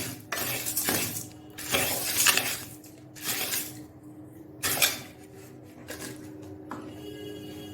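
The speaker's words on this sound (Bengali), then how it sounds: "এখন হালকা করে একটু ভেজে নিচ্ছি।" Washed, sun-dried ingredients for baby bird food are lightly dry-fried in a pan, with irregular bursts of scraping and clinking as a utensil stirs them against the metal, separated by quieter pauses.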